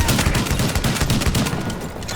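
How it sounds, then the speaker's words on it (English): Rapid, dense gunfire in the video game The Division, loud, continuous automatic bursts with overlapping shots and no pauses. "With all that gunfire drawing the Rikers' attention"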